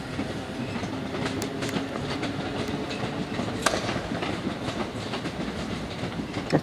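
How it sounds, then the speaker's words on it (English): A train rolls past on the tracks at Brighton Station, its wheels clattering in an uneven rhythm with occasional sharp metallic clicks, fairly close and steady. "That's the train that I was on."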